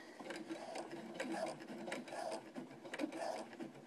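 A sewing machine topstitches along the opening of an all-in-one cloth diaper, a quiet, steady rhythmic chatter of the needle mechanism running continuously close by, with no talking over it.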